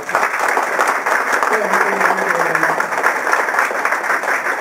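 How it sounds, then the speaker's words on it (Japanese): A room full of people gives sustained, dense applause at a community event, steady clapping throughout with a voice briefly audible beneath it at the start. "もう一度皆さんに大きな拍手をお願いしたいと思いま"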